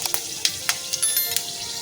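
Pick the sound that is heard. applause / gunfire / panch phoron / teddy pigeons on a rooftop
panch phoron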